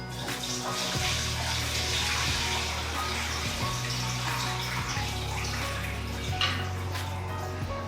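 Water drains from rice that has soaked for two hours, a steady close splashing and trickling pour that continues throughout, no talk.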